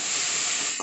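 Onions and tomatoes fry in a pan, a steady, close, dense sizzle with no break in this very short moment.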